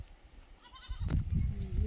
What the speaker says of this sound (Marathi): आमच्या शेळ्या तिकडे गेल्या चरायला